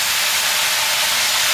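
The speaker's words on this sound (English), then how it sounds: "That's going to create steam to help cook everything along with the high heat and the steam." Cabbage and sauce mixture hit a hot pan for vegetable chow mein, giving off a loud, continuous steaming hiss that fills the moment close up with no voices.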